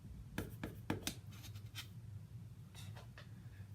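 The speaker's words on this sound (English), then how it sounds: "what I'm going to do is cut this into 12 pieces" Pizza roll dough being cut into pieces for chicken pesto pizza rolls, a few short, quiet knife-on-board strokes and taps close by over a low steady background hum, with no talking.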